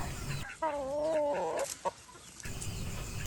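A chicken calls nearby on a mixed poultry farm raising domestic chickens and jungle fowl, giving a drawn-out, wavering squawk followed by a couple of short clucks, set against quiet outdoor background noise.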